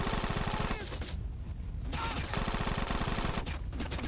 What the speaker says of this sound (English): Who the fuck is still shooting at me?